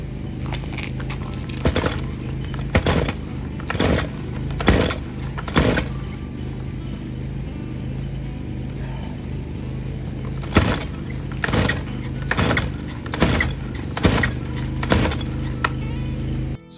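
A chainsaw with a newly replaced carburetor runs on the ground, its small engine humming steadily at idle while sharp bursts of revving or clattering recur every second or so.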